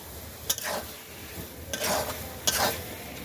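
Whole spices with cinnamon are stirred in a frying pan beneath a low, constant sizzle, and three distinct scraping strokes of a spoon stand out over the hiss with no speech.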